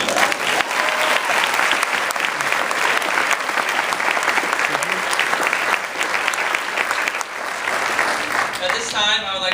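An audience at a National Honor Society ceremony claps in a dense, sustained round of applause that stays loud for most of its length, fading slightly near the end.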